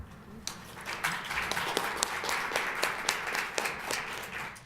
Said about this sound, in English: let's really give a warm round of applause to all of our speakers today